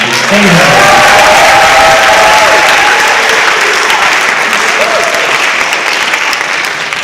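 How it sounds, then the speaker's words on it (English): A school auditorium crowd at a high school senior awards night applauds and cheers loudly for parents and staff, with whoops and voices rising over a thick, continuous roar of clapping. "let's give them a round of applause"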